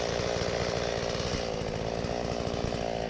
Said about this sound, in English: the saplings that needed to be cut with the chainsaw